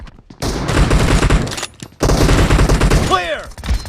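Heavy M1014 shotgun fire in the BGMI battle royale game: loud, dense blasts up close, broken by a brief pause, then a whistling sweep near the end.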